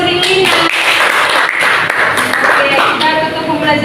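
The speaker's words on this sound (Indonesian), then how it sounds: "tepuk tangan buat Sri Lina" A sixth-grade classroom claps for a student, with steady applause under lively children's voices.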